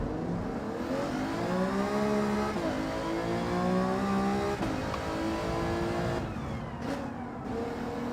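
A Mercedes SLS race car accelerating hard off the line in a racing game, the engine note climbing through several gear changes with short dips between shifts, loud and continuous.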